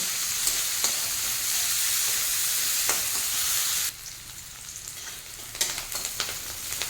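Onion greens (scallion stalks) frying in hot oil for a winter-vegetable dried fish dish, a loud steady sizzle that drops abruptly midway, then continues quieter with scattered spattering pops and stirring scrapes, no talking.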